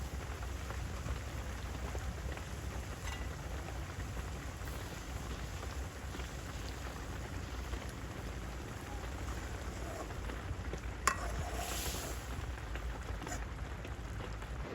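Onions are dropped into a simmering Bengali village-style small fish curry and fry with a steady, dense, rain-like hiss that lasts throughout, with no voices.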